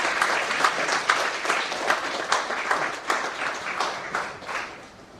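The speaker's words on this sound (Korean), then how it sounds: "뜨거운 박수로 해주시면 감사합니다." Warm, sustained applause fills a hall at a Korean church book launch event, many hands clapping densely and evenly for several seconds before tapering slightly, heard from within the room.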